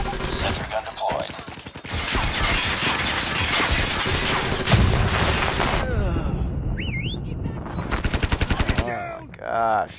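Sustained automatic fire from a deployed sentry gun in the mobile shooter Call of Duty Mobile, loud and dense for several seconds, mixed with game effects, announcer voice lines and more bursts near the end.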